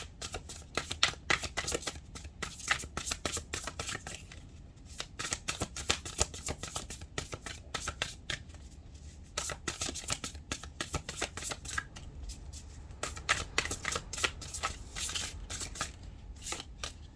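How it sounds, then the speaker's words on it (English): Tarot cards are shuffled and spilled across a table in a dense run of crisp, close riffling clicks and flutters that come in quick bursts for the whole stretch, without any voice. "Spilling the cards all over the table."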